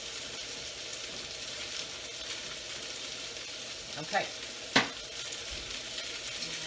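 Food sizzles steadily in a cast iron pan while chicken enchiladas are cooked, a constant close hiss with a couple of brief clinks from stirring; a voice speaks briefly.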